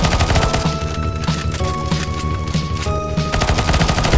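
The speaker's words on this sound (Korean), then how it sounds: "그러니까 제가 로켓을 쏘고 있지" Rocket fire and weapon blasts in a CS:GO zombie escape map, a dense barrage of repeated booms and shots over music-like tonal game sound, loud and continuous.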